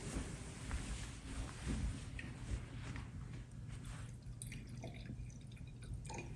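Wine poured from a bottle into glasses at a table service, a very quiet splashing trickle with soft drips, heard close and alone.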